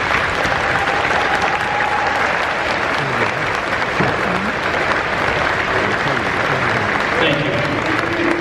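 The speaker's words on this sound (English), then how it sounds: "I'm asking you to just give your instructors a round of applause." A graduation audience applauds its instructors with steady, dense clapping that fills the hall at full strength throughout, a few voices faintly audible beneath it.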